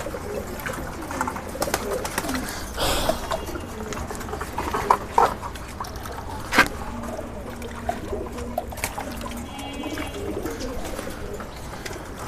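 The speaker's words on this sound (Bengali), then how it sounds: "পানি দেওয়ার সাথে সাথে কবুতরগুলো পানির কাছে আইসা পড়বে" Pigeons coo softly in a steady, overlapping murmur, with occasional fluttering and scraping close by and a few sharper knocks.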